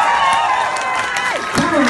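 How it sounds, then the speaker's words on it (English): An audience applauds and cheers for a singer after a performance, a steady roar of clapping and crowd noise with a voice heard over it. "Give them a big round of applause."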